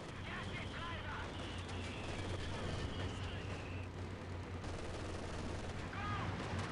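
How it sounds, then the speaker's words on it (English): Rattling bursts of machine gun fire and scattered shots in the Company of Heroes 2 battlefield, continuous and busy throughout, mixed with game effects and voices talking over the action. "Taking machine gun fire!"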